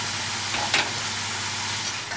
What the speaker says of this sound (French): vous faites tout simplement fondre le sucre